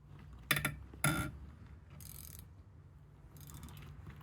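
Gearwrench 3/8-inch drive XL 120XP ratchet breaking bolts loose: two sharp cracking snaps close together near the start, then a few lighter metallic clicks over a low background hum.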